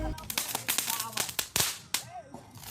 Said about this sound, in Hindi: ये लोग तो 2 नंबर पटाखे लाए थे